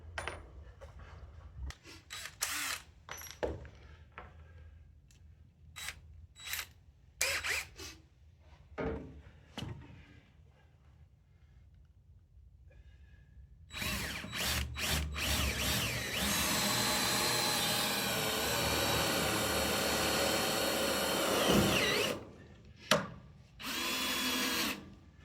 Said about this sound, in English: The reason I'm pre-drilling is these screws don't drill in very well at all through the wood